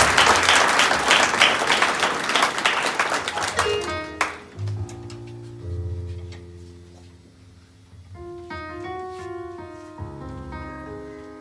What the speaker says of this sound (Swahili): mpatiwe na makofi mazuri